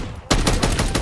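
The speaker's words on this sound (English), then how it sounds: "The M4, but it's the jack conversion of the M4. The MW2 weapon." Rapid automatic fire from an M4 rifle (MW2-style jack conversion) in a video game, a sudden burst of close, loud, evenly spaced shots after a brief quiet start.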